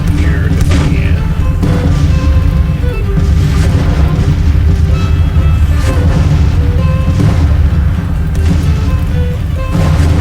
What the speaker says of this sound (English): Just want to catch the end of this bombardment here if I can.